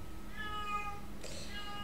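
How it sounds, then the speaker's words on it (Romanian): A cat gives a single faint meow indoors, heard quietly over a steady low room hum, with a short burst of brighter noise just after it. "Este o pisică care se aude."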